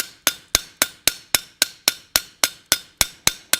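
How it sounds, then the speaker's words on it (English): A small hammer strikes a forged iron staple on a hand-forged latch, about thirteen sharp metallic blows in an even, quick rhythm, each ringing briefly before the next. "That's where this little hammer comes in to help quite a bit."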